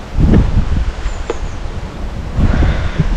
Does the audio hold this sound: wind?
yes